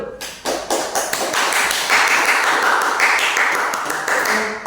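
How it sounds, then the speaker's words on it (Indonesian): A classroom of students claps together at the end of a maths lesson, a dense run of close, sharp hand claps that swells and then fades. "Tepuk tangan untuk kita semua dulu."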